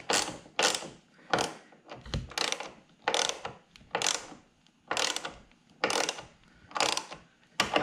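Ratchet with a 50 Torx bit tightening a seat belt anchor bolt in a C7 Corvette coupe interior, sounding as about nine close, loud bursts of rapid clicking, each followed by a short pause.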